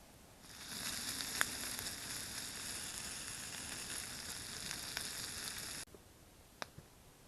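Sausage and bacon frying at an overnight camp, giving a steady, close hiss and crackle that holds for several seconds with a few sharp pops, then cuts off abruptly, leaving quiet with a couple of faint clicks.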